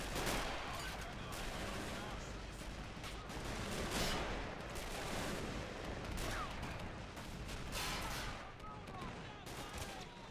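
Dense, continuous battlefield gunfire from Men of War: Assault Squad in a Hürtgen Forest defense battle, rifle and machine-gun bursts with distant artillery rumble layered into a loud, unbroken roar.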